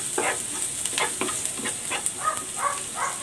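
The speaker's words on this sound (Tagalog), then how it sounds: "Igigisa ko na tong bawang. At ang sibuyas." Garlic and onion sauté in a hot pan, a steady close sizzle with scraping stir strokes and crackles running throughout, fairly loud and without talk.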